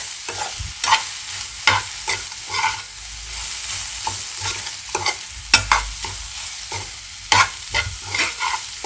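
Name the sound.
stirring and frying grated fresh coconut in a pan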